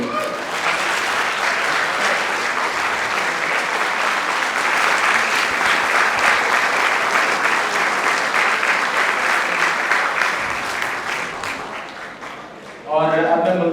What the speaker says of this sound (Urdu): تالیوں میں کمی نہیں ہونی چاہیے